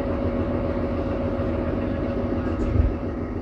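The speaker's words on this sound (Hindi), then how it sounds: "बस 5 मिनट बाद अब रवाना हो रही है हमारी शिमला कालका स्पेशल ट्रेन।" A Kalka–Shimla toy train waiting to depart, heard from on board: a steady low rumble and hum of the engine and carriages, continuous and moderately loud, with a faint thump near the end and no talking.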